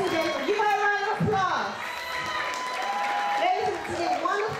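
Audience applause at the Miss Africa Texas 2010 pageant, a steady wash of clapping from a crowd lasting several seconds, with voices and a background melody mixed in.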